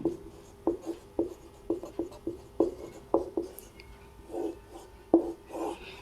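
Writing on a board during a class 12 maths lesson: a series of short, distinct tapping and scratching strokes in uneven rhythm, close and moderately loud, without talking.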